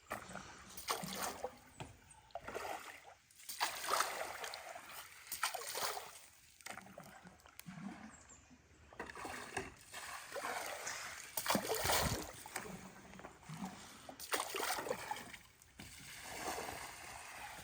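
Continuous splashing and sloshing water up close as an alligator snapping turtle churns, irregular bursts with faint voices now and then in the background.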